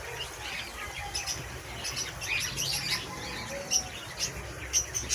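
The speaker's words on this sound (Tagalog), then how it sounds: "Ito nga pala yung mga alaga kong bibi. Kapapatuka ko lang." Pet ducks, just fed, call with faint, scattered quacks and squawks over a low outdoor background.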